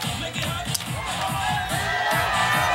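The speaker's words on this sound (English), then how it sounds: "The crowd's still buzzing from what they saw just a couple of minutes ago." Crowd at a World Long Drive golf event at Huntington Beach buzzing, with a steady murmur of many voices and scattered shouts and cheers, fairly close and continuous.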